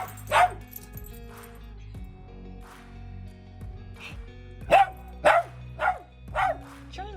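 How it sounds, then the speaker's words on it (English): A dog barks indoors in a series of sharp, close barks and yips, a few spaced out early, then a cluster of louder barks in quick succession near the end. "Why are you barking?"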